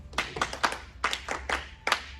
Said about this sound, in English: Can you please clap hands for her?